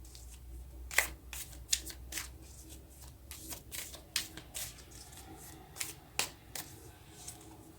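Tarot cards are shuffled and drawn by hand, making a series of crisp, close riffling and slapping bursts spaced irregularly over a quiet background, with no talking.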